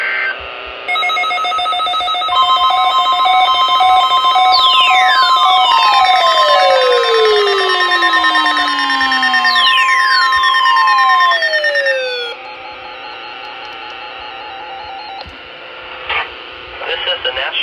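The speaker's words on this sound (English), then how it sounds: "We have just activated the public warning alarm tone as a test of our weather radio station's warning alarm system." NOAA weather radio public warning alarm tone test from the National Weather Service office in Jackson, Kentucky: loud, steady electronic alarm tones with sweeping falling pitches, lasting about eleven seconds, then quieter broadcast sounds.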